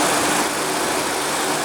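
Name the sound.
2015 Lexus NX200t 2.0 L turbo four-cylinder engine running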